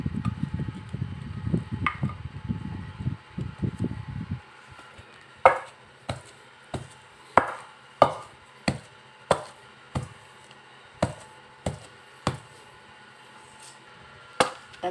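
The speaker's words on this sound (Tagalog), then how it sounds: "durugin muna yung saging" Bananas mashed for Filipino nilupak, with dense low pounding for the first few seconds, then a series of sharp, evenly spaced knocks roughly once a second, close and moderately loud.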